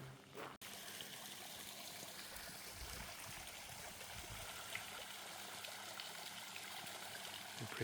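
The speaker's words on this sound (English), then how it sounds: "And here is the fountain with the waterfall steps, which is pretty." Water from a garden fountain spills down stepped waterfall cascades, a steady, fairly quiet rushing trickle heard alone after a brief knock at the start.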